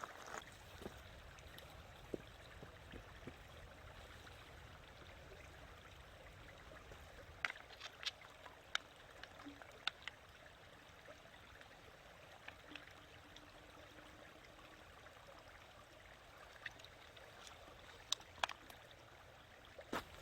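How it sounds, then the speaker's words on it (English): A flowing stream in winter woods in the Catoctin Mountains, a soft steady trickle and gurgle of water running quietly and continuously, with scattered faint clicks and taps nearby. "I just made it to the stream here"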